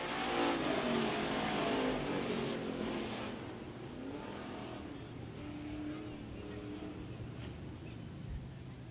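IMCA stock cars run laps on a dirt speedway, their engines a sustained roar that swells loud at first, then settles into a steady, slightly distant drone with occasional revving surges.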